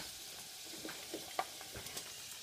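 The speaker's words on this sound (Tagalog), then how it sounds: "Piniprito ko na yung pusit." Squid frying in a pan gives a soft, steady sizzle with scattered small pops and crackles, fairly faint and with no voices over it.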